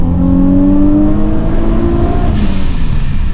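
Supercharged 560 hp Infiniti G37 with a Stillen intake manifold, its engine revving steadily in a loud, close, continuous drone with a subtle flutter and slowly shifting pitch.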